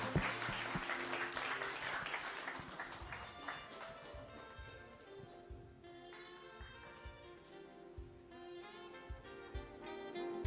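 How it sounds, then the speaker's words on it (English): An audience claps at a hospitality master's programme launch event, lively applause at first that thins into scattered individual claps over background music and a busy room. "Shall we clap, ladies and gentlemen?"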